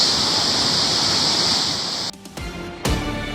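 A strong, loud, steady roar of rushing floodwater in Semarang, which cuts abruptly partway through to a quieter, choppier stretch.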